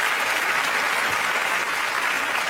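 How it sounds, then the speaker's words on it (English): A studio audience at a car show applauds for a fast lap driver, a steady wash of clapping from many hands, loud and even throughout. "So you go and give him a round of applause, everyone"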